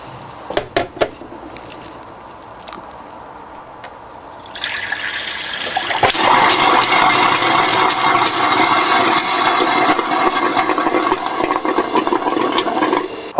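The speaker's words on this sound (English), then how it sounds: "So let's drain our first tap." A few clicks and knocks, then water starts gushing steadily from a touring caravan tap being drained for winterising and keeps running loudly, a continuous hiss with splashing.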